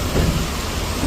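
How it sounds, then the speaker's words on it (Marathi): A hard, steady downpour with low thunder rumble during a train journey from Mumbai to Vapi, dense and continuous throughout, with no talking. "फुल जोरात पडतोय पाऊस"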